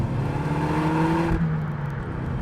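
A Peugeot RCZ R's exhaust drones steadily from inside the cabin, a deep, throaty hum that shifts tone as the engine settles.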